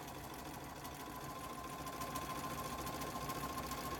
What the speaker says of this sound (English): I'm just daisy chaining them all together. So I'm sewing on the line